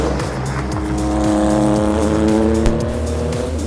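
Acura race car with an SUV-derived engine at speed on track, loud close engine note climbing and dropping through rapid gear changes, with a brief sharp transient near the end.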